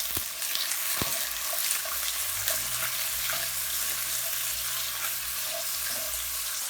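Sliced tofu scramble frying in a hot pan, a constant loud sizzle with occasional spatula scrapes and taps as it is broken up and stirred, close by and without talk.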